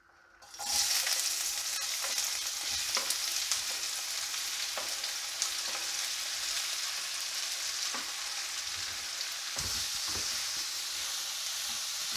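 Onions dropped into a heated pan burst into a bright, loud hiss that then holds as an even sizzle, with occasional clicks of a utensil against the pan, close up and without voices.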